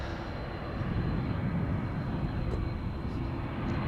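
An airliner climbing out after takeoff from Amsterdam Schiphol, its gear retracting, gives a steady, broad jet roar that holds an even level throughout, fairly distant and without voices.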